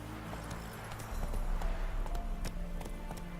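The horse Roach gallops in The Witcher 3, a steady rhythmic clip-clop of hooves at moderate volume over ambient game sound.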